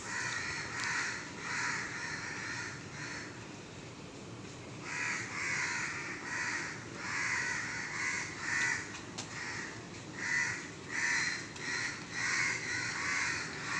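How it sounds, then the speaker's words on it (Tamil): Crows caw outdoors in loud, repeated bursts of harsh calls that come in uneven clusters with short pauses between them, over a faint background. "இந்த காக்காய் வந்து பார்த்திங்கன்னா மேலே கீழே மேலே கிளியும் அப்படியே பறங்க எல்லா காக்காயும் பறந்து போய்கிட்டு இருக்குது"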